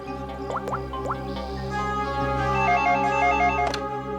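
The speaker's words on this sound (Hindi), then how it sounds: "ये ये तो निहारिका के घर का नंबर है।" An incoming call sets a telephone ringing in a repeating electronic ring pattern, loud and close over a steady low hum, with a few short tones and no speech.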